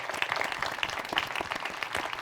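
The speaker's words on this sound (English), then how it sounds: "Let's take a moment to give a round of applause for that" An audience at a panel with the cast of Baldur's Gate 3 claps steadily through the whole stretch, a dense crowd round of applause heard from a distance and fairly quiet.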